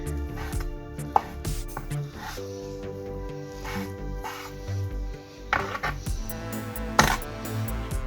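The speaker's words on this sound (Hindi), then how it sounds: "इसको अच्छी तरह चॉप कर लें, मोटा मोटा चॉप कर लें" Rough chopping of an ingredient with a knife for chicken corn soup, irregular knocks against a board mixed with scraping and rustling, close and moderately loud, with music playing throughout.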